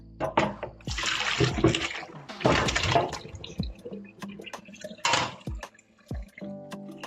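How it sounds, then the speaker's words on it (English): Water drained off boiled potato wedges in a home kitchen, with splashing pours in several bursts between drips and clatters of a pot or strainer, fairly close and without speech. "The potatoes are done now, so we drain the water."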